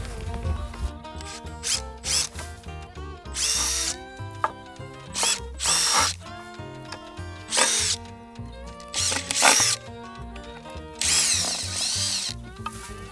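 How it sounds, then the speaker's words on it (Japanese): A power drill unscrews a fastener from a partition board in a modified car, giving repeated bursts of whirring and ratcheting, close and loud, separated by short pauses with faint clicks of handling. "じゃあ一旦このネジを外しますか。"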